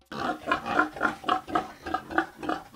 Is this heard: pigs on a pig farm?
yes